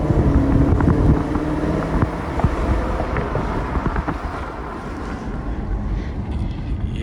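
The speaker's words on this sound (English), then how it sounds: "listen to the motor." A car engine idles and revs at a dealer auction, a steady low rumble with wind buffeting the microphone throughout.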